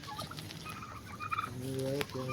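A chicken clucks at a farm with a harvested chickpea crop: a short run of quiet, close calls in the second half, over faint background noise, with no speech.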